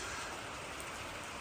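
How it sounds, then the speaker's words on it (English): Steady rain falls on a wet morning outdoors, a dense even hiss of drops hitting surfaces, continuous and fairly close with no voices. "Filthy, stinking, raining, wet, miserable"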